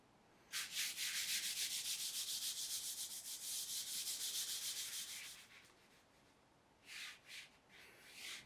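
A flat brush rubs charcoal powder onto drawing paper, making a steady, close, dry scratchy swishing for about four seconds, then a few short separate strokes after a brief pause.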